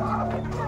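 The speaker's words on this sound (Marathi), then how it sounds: "ह्या बघा किती कोंबड्या आहेत, गावठी कोंबड्या" Native village hens clucking together in a farmyard, a short, close burst of layered clucks.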